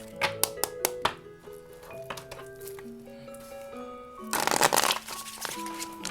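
Tarot cards being shuffled at close range: a few crisp taps and flicks, then a brief riffling burst of cards, set against faint background music.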